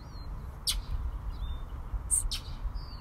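Faint, sharp bird chirps, a few brief calls spread across a few seconds, from a bird attacking a boxer dog in an outdoor park, set over low rumbling background noise.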